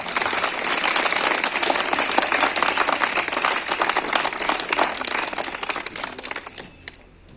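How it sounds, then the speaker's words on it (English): Audience applause at a talent search test award event, a dense burst of many hands clapping loudly at close range, holding steady before quickly tapering off into near silence. "So give a big clap for them."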